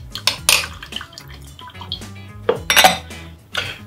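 Milk and cream being mixed in a pan while making chocolate ganache for chocolate wave tartlets, heard as a series of close utensil clinks and scrapes against the pan with gentle liquid sloshing, with no talking.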